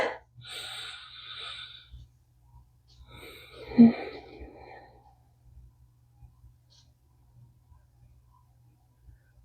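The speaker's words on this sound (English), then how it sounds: "Take a deep breath in." A single deep breath drawn in near the middle, a brief close rush of air standing out against a quiet room, with a faint sniff or snort-like breath at the very start.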